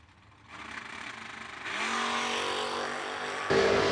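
A drag race car launches hard in a wheel stand at a winter warm-up drag racing event, its engine roaring up from faint to loud and sustained, with a sharp surge near the end.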